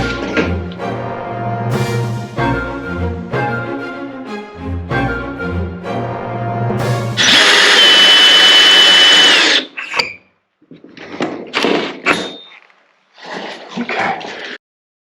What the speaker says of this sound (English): after drilling the holes on one side, it's now time to move over and drill the holes on the other side